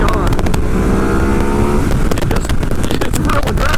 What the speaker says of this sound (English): There's just a massive difference, and you can hear it in the exhaust.